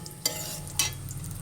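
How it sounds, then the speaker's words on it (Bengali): Cashews and raisins frying in ghee in a pan for chicken dum biryani, a soft steady sizzle with two sharper stirring scrapes, close by and without talk. "ঘি দিয়ে প্রথম আমি কাজু আর কিশমিশটাকে ভালো মতন করে একটু লাল লাল করে ভেজে দেবো।"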